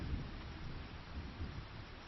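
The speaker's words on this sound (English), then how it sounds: "Okay, the rains have come." Steady rain with a low rumble of thunder in the Farming Simulator 25 video game, a constant wash of noise at moderate level, brief and without talking.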